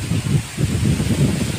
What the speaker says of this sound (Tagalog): Lakas ng hangin, nakakatakot.